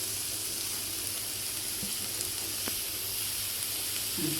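Chopped carrot and beans frying in a pan for a thoran, a steady even hiss of sizzling throughout with only a couple of faint taps.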